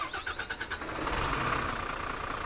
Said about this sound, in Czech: Ten motor, ještě si motor teda poslechneme ze zadu